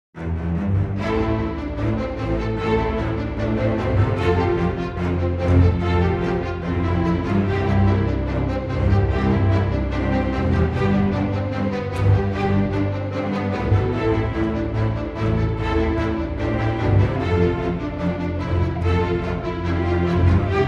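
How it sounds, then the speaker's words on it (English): Double basses and cellos from the Berlin Strings orchestral sample library play a sustained, dense low string passage, steady and full throughout with no talking. "what you heard there was first these double basses"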